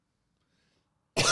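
Near silence, then a single sudden, loud cough bursts out close by right at the end.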